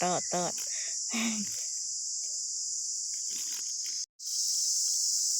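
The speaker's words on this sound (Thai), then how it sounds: "อันนี้คือจักจั่นตัวผู้" A male cicada caught outdoors in Laos gives a loud, continuous high-pitched buzzing drone that runs almost unbroken and cuts out only briefly near the end, with a voice heard briefly at the start.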